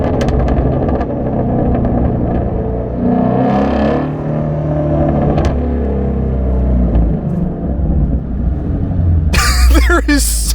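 Shelby GT350 from 2017 with a 526 hp engine, driven slowly from inside the cabin: steady low engine rumble and exhaust burble with a brief sharper burst near the end, under someone talking.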